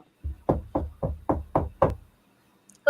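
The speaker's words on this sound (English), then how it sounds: "as if on cue, you hear a knocking at the door." Six firm, evenly spaced knocks on a door, loud and close, followed by a short pause and a sudden louder sound at the end.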